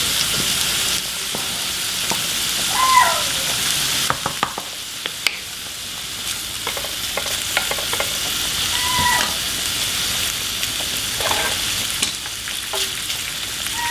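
Bacon fries in a pan for pasta carbonara with a steady, dense sizzle, broken by scattered scrapes and clicks as it is stirred, close and continuous with no voices.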